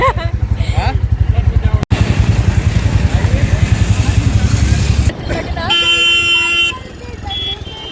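Royal Enfield Bullet motorcycle engine thumping steadily while being ridden on a road, loud and close with a rhythmic exhaust beat, then a horn toots near the end; voices are heard alongside.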